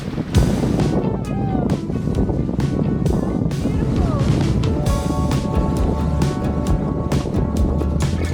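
Breeze rushing past a sailboat under way at about seven knots on the Pacific, steady wind buffeting with water washing along the hull, while a voice talks over it.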